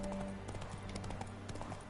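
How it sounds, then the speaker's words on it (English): Horse hooves clip-clop steadily at a walking pace in The Witcher 3, close and distinct over a quiet game background. "Spooking my horse. Roach doesn't like ghosts."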